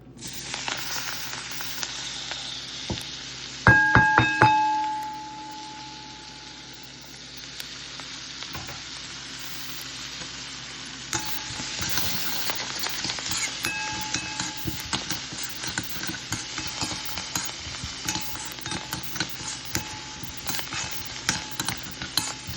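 Onions frying in butter with salt in a pan for masala pasta, a steady close sizzle with bursts of crackling and stirring scrapes, plus a brief tonal beeping early on.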